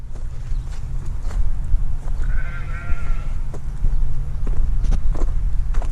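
Sheep bleating outdoors on a farm, one wavering bleat of a couple of seconds near the middle, heard over steady low rumble and wind, with scattered footsteps and knocks around it.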